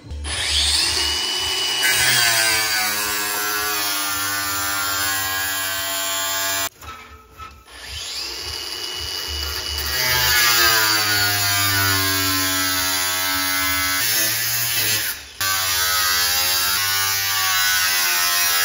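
Close and loud, a power saw whines through galvanized metal during an Alpine A110 restoration, its pitch rising and sagging through long cuts with two short breaks, no voices.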